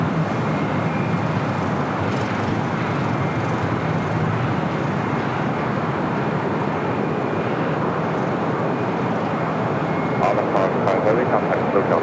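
An airliner roars steadily on approach to runway 25 left at LAX, a continuous broadband engine rumble heard at a distance with faint radio chatter over it.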